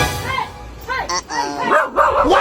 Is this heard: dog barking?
yes